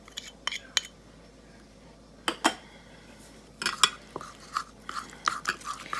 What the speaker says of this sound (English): We're going to mix that with our peanut butter.